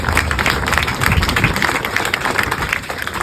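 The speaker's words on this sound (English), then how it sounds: "please give the residents of Baytown a round of applause" Crowd applause at a groundbreaking ceremony for a marketplace in Baytown, Texas: many people clapping steadily for a few seconds, dense and fairly close, with no talking over it.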